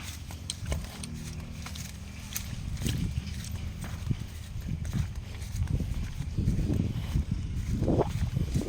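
Water buffalo pulling a cart, its hooves clip-clopping in an uneven walking rhythm over a rolling, rumbling background that grows louder toward the end, with people talking nearby.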